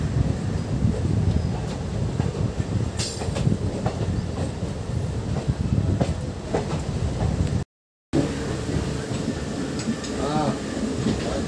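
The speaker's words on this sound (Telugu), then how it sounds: "ట్రైన్ ఫస్ట్ నెంబర్ ప్లాట్ఫామ్ నుంచి డిపార్చర్ అవుతుంది." A Nizamabad–Kacheguda passenger train departing a station platform and running, with steady rumble and rhythmic clickety-clack of wheels over rail joints, wind buffeting the microphone and a brief dropout partway through.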